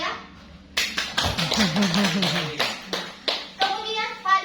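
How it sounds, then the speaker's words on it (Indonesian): A high school class claps for a few seconds, with scattered uneven hand claps under children's voices talking and calling out. "Kita berikan tepuk tangan untuk kelas Ibu Raya"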